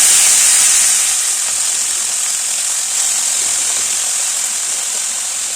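Chopped red amaranth greens tipped into hot tempering in a pan, a loud, dense sizzling hiss that starts at full strength and holds steady, easing off only slightly.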